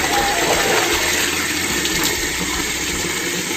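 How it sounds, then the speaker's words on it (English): Steady, loud rush of running fresh water pouring over natural ribbed rubber sheets as they are washed, a continuous broadband gush with no voices. "So we're gonna wash it in fresh water, running water."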